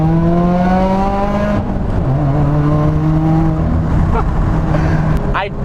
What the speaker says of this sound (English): this car sounds mad, it's basically straight piped all the way from the header back